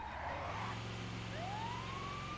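An ambulance siren in a video game wails with a rising electronic tone over a steady engine-like rumble, continuous and fairly loud throughout.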